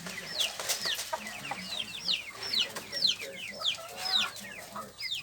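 Chickens cluck on a small backyard chicken farm, with repeated rising, squawky calls and soft clucks overlapping at close range in a continuous, busy chatter.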